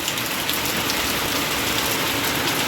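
Heavy rain pouring down outside a home, a dense, steady hiss of drops hitting surfaces, loud and close without letup and with no voices over it.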